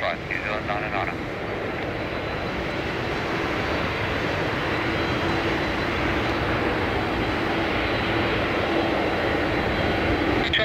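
An Air New Zealand airliner lands on runway 16R at Narita in strong typhoon wind, a steady loud roar of engines and rushing air that holds for the whole stretch, with radio voices faintly mixed in.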